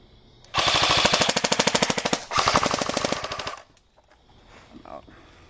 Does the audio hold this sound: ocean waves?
no